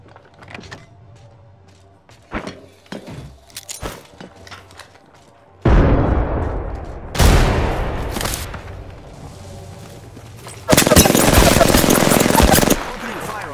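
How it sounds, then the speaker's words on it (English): Gunfire in the battle-royale shooter Apex Legends. Sharp, loud bursts of automatic fire come in three clusters, the last a sustained stream of nearly two seconds, with quieter clicks and game voice lines between them. "Opening fire on the enemy."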